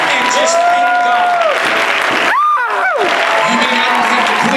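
A church congregation during a sermon claps and cheers loudly and steadily throughout, with a sustained crowd roar and whoops, while voices and sung or shouted tones rise above it.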